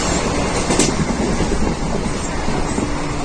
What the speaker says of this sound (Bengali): ট্রেন দুর্বার গতিতে এগিয়ে চলেছে